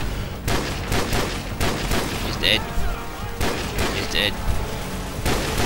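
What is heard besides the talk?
gunfire in the video game Call of Duty 4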